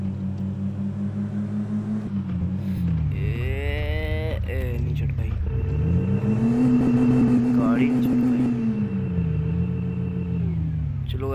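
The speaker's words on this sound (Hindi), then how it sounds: "चलो गाइस फिर दोबारा ऊपर चढ़ाते हैं गाड़ी।" A Ford Endeavour climbing uphill on a hillside village road, its engine droning loudly and continuously as the revs rise and fall, with a steady low rumble throughout.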